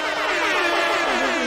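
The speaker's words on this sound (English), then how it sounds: "I'm drowning you out with sound effects right now. Air horns." A blaring air horn sound effect, loud and continuous with a wavering pitch, filling the whole short moment on its own.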